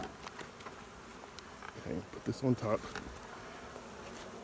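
Close honeybee buzzing with droning, fluttering bursts that swell and fade over quiet background hiss, with a brief murmured voice partway through.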